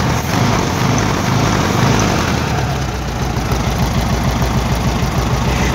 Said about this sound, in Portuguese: Show de bola, hein? Funcionamento do motor.